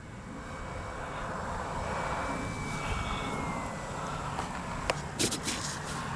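A Durafly Brewster F2A Buffalo RC warbird passes overhead at a distance as a steady, moderate motor drone that rises and fades, followed by a few sharp nearby knocks at the end.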